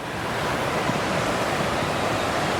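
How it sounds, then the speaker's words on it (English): Montana Falls, a wide-drop waterfall in Tasmanian forest, gives off a steady, dense roar of rushing water that stays constant and fairly loud throughout, with no voices. "It's actually quite an impressive waterfall, just seeing it through the trees, because it is a really, really wide drop."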